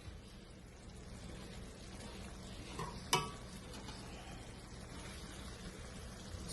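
Salmon simmering in its juices in a pan: a soft, steady bubbling sizzle held throughout, broken once by a sharp metallic clink partway through, quiet and with no talk.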